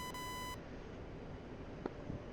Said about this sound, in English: That beep is the RWR saying there's a new radar contact